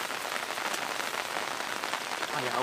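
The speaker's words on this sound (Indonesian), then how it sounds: "Aduh, hujan" Steady rain falls in a constant hiss of drops on surfaces, moderately soft and unbroken, with a faint low hum near the end.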